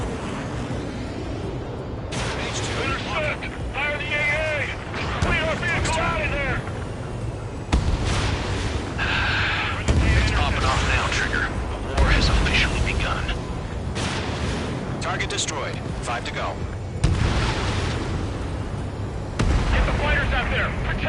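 Anti-aircraft guns firing in the Ace Combat 7 video game, loud repeated booming bursts and explosions in clustered volleys, with voices heard over the combat.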